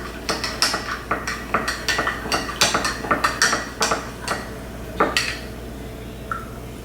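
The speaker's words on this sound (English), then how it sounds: "you want to keep mixing that until it dissolves" A utensil clinks and scrapes rhythmically against a bowl while sourdough pizza dough is mixed to dissolve yeast, a close series of sharp repeated taps with no talking.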